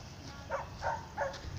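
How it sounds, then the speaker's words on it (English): Another dog barks a few times in the background, three short, moderately loud barks spaced about a third of a second apart against a steady room hum. "That other dog barking."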